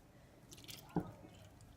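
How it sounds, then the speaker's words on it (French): Milk poured into banana-chocolate magic cake batter gives a single brief wet drip or plop against a quiet kitchen background. "Donc on met le lait maintenant"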